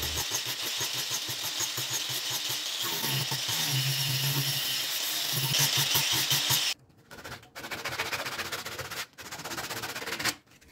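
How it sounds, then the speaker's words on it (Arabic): An angle grinder running at low speed with a sanding disc, shaping a wooden wall clock, giving a loud continuous whirring grind that cuts off abruptly and restarts in short bursts near the end. "هبدا اشيلها وابدا باستخدام الصنفره بتاعه الصاروخ اشطف الاجزاء اللي هيركب فيها الشريط بتاع الساعة"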